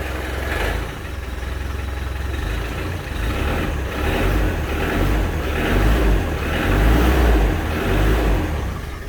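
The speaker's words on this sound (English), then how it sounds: "Even this is a cold start, and the car hasn't been running in a while." A cold 1996 Land Rover Defender engine starts and runs, idling roughly with a steady low rumble and a few swells of revving, loud and close, with no voices.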